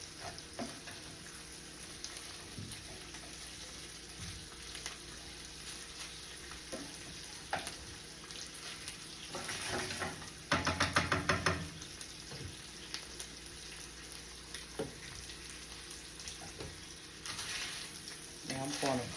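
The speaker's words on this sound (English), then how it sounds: "we're going to saute this ham" Ham sautés in a skillet with a steady, close sizzle and light crackling, interrupted by occasional stirring scrapes and a louder burst of spitting partway through.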